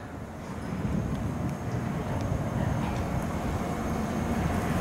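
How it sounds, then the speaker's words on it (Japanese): EF64 locomotive-hauled train arriving at a Takasaki station platform, a low continuous rumble of rolling wheels and engine that builds slightly and holds steady, with faint distant metallic ticks. "今台はホーム左手より列車入線をしております"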